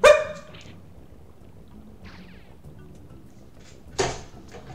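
A dog in the video game Pac-Man World: Re-Pac barks sharply at the start, then again near the end, with quieter game sounds between.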